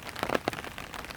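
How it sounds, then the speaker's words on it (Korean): Rain patters on leaves in a leafy backyard beside a hillside, a close, brisk scatter of individual drops tapping over a soft steady hiss. "또도도독 빗소리 들리시나요?"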